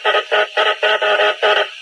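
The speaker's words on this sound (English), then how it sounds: "The sound you just heard belonged to the distress signal sent from the Titanic." A series of short, evenly spaced electronic beeps pulses in a Morse code dot-dash pattern, the Titanic's distress signal, clear and alone against silence.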